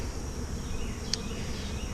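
Bees buzz steadily from inside an old oak log as the comb is dug out, a close, continuous drone that holds the whole time, with one brief sharper flicker partway through.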